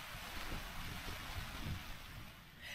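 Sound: rain falling outdoors at night

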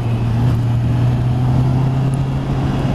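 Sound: four-cylinder motorcycle engine revving

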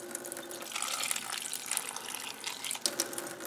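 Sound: water poured onto guava and ice in a blender

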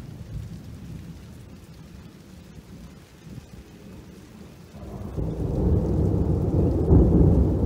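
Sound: heavy rain with thunder during a storm

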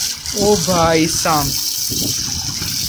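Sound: homemade 555 DC motor water pump pumping water

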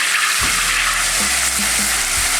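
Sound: semolina being roasted in oil in a pan

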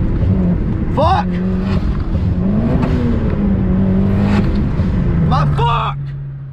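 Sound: car engine revving and hitting boost cut

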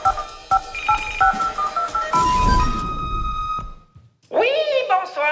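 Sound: answering machine playback tones before recorded messages

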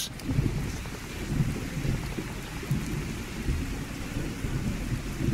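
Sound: thunderstorm in video game Fallout 4

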